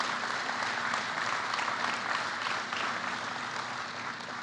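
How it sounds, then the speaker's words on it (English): Sustained audience applause fills the room at a presidential speech on Amtrak funding, a dense steady clapping that holds at an even level throughout and fades slightly at the end. "That's worth a round of applause."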